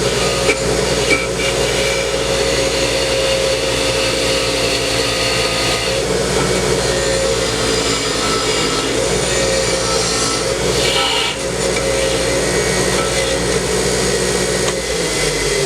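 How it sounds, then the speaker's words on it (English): A wire wheel scours rust off steel in a steady, loud, continuous whir with a gritty hiss that holds throughout, dipping only briefly near the middle. "We're going to try a wire wheel first."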